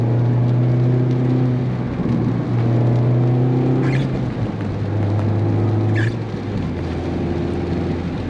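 A 2023 Mazda Miata with a manual transmission driving along, a steady low engine drone with shifting tones as the gears change, loud and close without talk.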